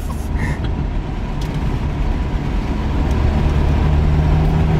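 A repaired, previously wrecked Mazda Miata drives on the road, its steering pulling out of alignment, giving a loud, steady engine and road rumble from inside the car.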